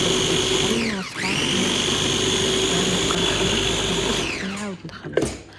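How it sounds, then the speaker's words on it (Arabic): An electric mixer whirs through mini pancake batter, a loud steady motor whine that dips and speeds up again early on, then winds down near the end with a few knocks against the bowl. "ونخلطوا كل شيء مع بعضه حوالي دقيقتين"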